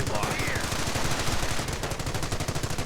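A .30 caliber machine gun rattling away in a World War II strategy game, a rapid, steady stream of loud shots running for the whole stretch without a break.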